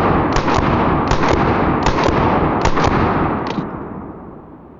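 A 9mm MP5-style clone rifle firing 115 grain ammunition: loud, close gunshots in a rapid series of about five closely spaced double reports, with a short ringing tail at the end and no talking.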